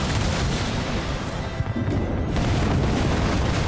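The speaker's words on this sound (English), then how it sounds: "There's the anti-air turrets opening up now" Anti-air turrets firing in Halo Wars 2, a steady rumble of booming, rapid artillery-like shots, loud and continuous, with a sharper burst midway.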